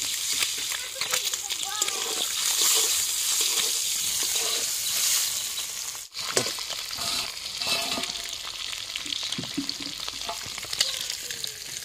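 Onion, garlic, green chili and ginger fry in hot oil with a steady, fairly loud sizzle and occasional stirring scrapes, a voice audible beneath it.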